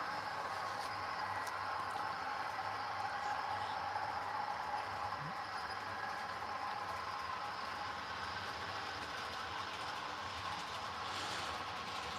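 Model train with Genesis locomotives running on a track, a steady low rumble and hum with faint rail noise, continuous and fairly quiet throughout.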